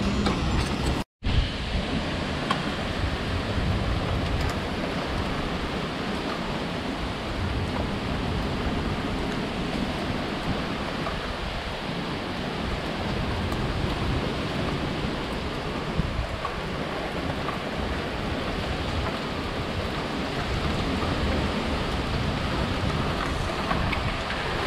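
Heavy rain with strong gusting wind just after a hailstorm, a dense, steady broadband roar that continues unbroken throughout, close and loud.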